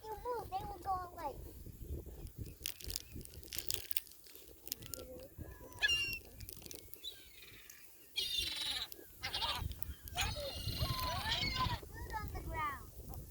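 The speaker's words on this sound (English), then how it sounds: "This is even more gulls than at the ocean." A large flock of seagulls at Millerton Lake calls in repeated harsh squawks and cries, close and overlapping, with people talking throughout.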